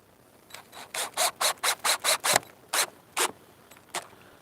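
Old screws are driven into a letterbox during installation, heard as a close run of about eight quick, evenly spaced ratcheting bursts, followed by a few slower, spaced turns in an otherwise quiet space.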